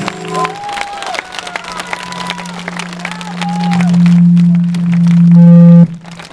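A concert crowd at a performance on Day of the Cossack 2015 claps and cheers in a dense, steady wash, with voices rising through it and a loud sustained tone swelling underneath before cutting off sharply.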